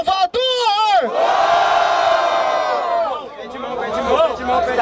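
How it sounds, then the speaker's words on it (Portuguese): A crowd roars and cheers loudly at a semifinal rap battle in Barueri, São Paulo, with a sustained shout swelling after a brief opening burst and then easing into mixed hollering, while an MC's voice calls out over the noise. "Barulho para as rimas do Tchaya!"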